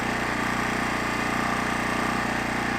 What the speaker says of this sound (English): directly next to the generator, it looks like it's at 83 decibels coming right out of it